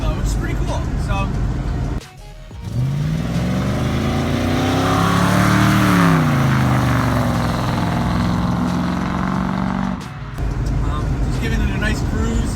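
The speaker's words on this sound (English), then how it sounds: "Car's driving right now. Great cruiser." A 1966 Ford Mustang with a swapped 302 V8, AOD transmission and Holley Sniper EFI cruising, its engine droning steadily with a rising then falling rev in the middle, loud and close from inside the car.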